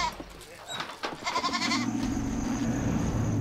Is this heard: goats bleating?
yes